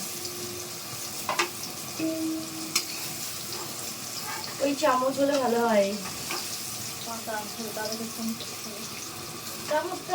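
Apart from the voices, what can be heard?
sweet pumpkin frying in a pan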